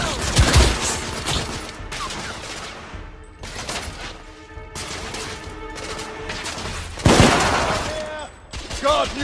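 Firefight in The Order: 1886, with loud, close bursts of rapid gunfire and scattered single shots that come in waves, mixed with ringing tones and clattering effects, and a surge of heavier fire late on.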